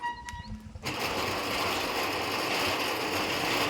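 Crane hoist pulling a pump motor up out of a deep well at a well-digging site, a steady loud mechanical clatter and grinding that kicks in abruptly after a brief quieter moment and runs on continuously.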